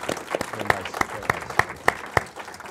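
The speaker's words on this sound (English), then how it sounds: "So I think that's deserving another round of applause for these gentlemen." An audience at a film panel claps for the guest screenwriters in a steady, evenly spaced rhythm, with sharp distinct beats roughly three per second over a quieter murmur.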